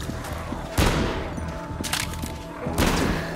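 Gunshots from a gun in the VR zombie shooter Arizona Sunshine 2 set in a trailer park: three loud, sharp blasts spaced about a second apart, each trailing into a short decay, with low game ambience between them.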